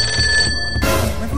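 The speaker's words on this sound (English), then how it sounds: "My phone is ringing." A telephone rings with a bright electronic trill, one short ring that cuts off abruptly into background noise.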